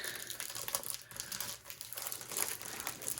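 Clear plastic wrapping crinkling as it is pulled off a clear book for diamond paintings, a close, quiet run of irregular crackles and rustles with no talking.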